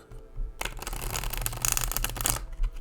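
A tarot deck of linen cardstock is shuffled close up: a fast, papery riffling flutter that lasts about two seconds, with quiet handling before and after.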